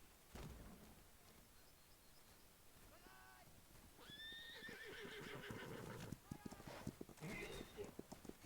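Horses in a video game, whinnying and neighing with hoof clip-clop over a busy game soundscape, while someone talks over them in French.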